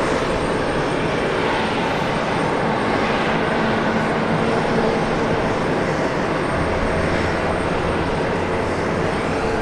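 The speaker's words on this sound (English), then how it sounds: "What's that sound? An arrival. I think it was the 767." A Boeing 767 jet airliner arriving at an airport gives a steady, loud, broad engine roar that fills the whole stretch without letup, with no voices over it.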